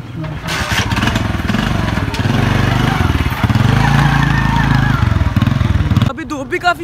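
A motorcycle is wheeled out and started outdoors, its engine chugging loudly and close in a steady, throbbing idle that runs for several seconds before cutting off near the end.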